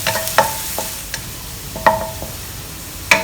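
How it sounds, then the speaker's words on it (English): Chopped garlic frying in a hot wok is stirred with a utensil, giving several sharp scraping clinks at irregular intervals over a soft, steady sizzle, close and fairly loud. "Remember to stir them around."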